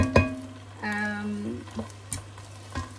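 Onion frying in rendered pork fat for taro leaf laing gives a crackling sizzle, broken by a few stirring scrapes and clacks of a utensil against the pan, close and fairly loud.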